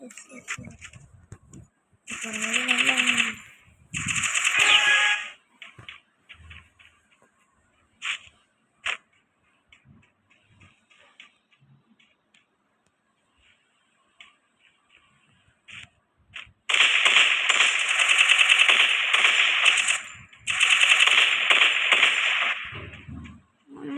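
Gunfire from a UMP in the video game Free Fire comes in several loud rapid bursts, separated by gaps with scattered clicks and short game sounds.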